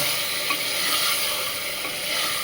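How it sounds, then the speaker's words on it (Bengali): Mutton pieces with two bay leaves sautéing in a pan for khichda, a steady broadband sizzle with faint stirring and scraping throughout, close and continuous with no talking. "আমি পাঁচ মিনিট ভালো করে কষিয়ে নেব"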